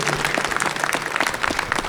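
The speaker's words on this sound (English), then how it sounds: "Can we have a round of applause for this?" A live audience at a Spider-Man 2 cast panel at Game On Expo applauds steadily for about two seconds, a dense, even wash of many hands clapping at close range with no voices over it.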